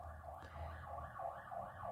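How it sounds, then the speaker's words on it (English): A police car siren outside wails in a steady rising and falling pattern, faint and distant, looping for the whole stretch with no talk over it. "Gosh, that police car is just having a laugh,"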